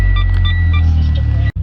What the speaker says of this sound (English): little cold start here.